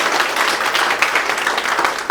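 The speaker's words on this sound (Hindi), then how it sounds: "एक बारी जोरदार तालियां सब संस्थान के लिए" An audience bursts into steady, dense applause, many hands clapping loudly and continuously throughout without a pause.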